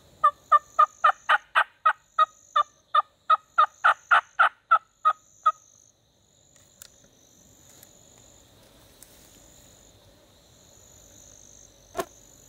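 Wild turkey gobbling during a Florida spring hunt: a rapid burst of about fifteen loud, rattling pulses over five seconds. Faint crickets and insects trill through the quiet that follows, and a single sharp snap comes near the end.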